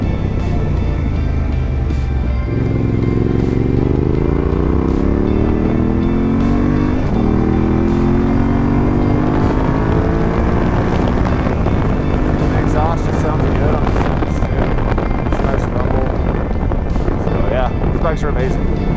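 A Yamaha Tenere motorcycle cruises down a mountain road, its engine droning and rising and falling in pitch beneath constant loud wind buffeting on the microphone.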